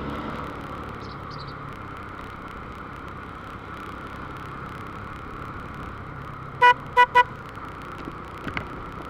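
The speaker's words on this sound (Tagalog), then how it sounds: "Tama, traffic kahit dito sa Tunasan." Street traffic in Tunasan hums steadily as a continuous engine rumble, broken by three short, close car-horn toots in quick succession and a couple of fainter honks afterward.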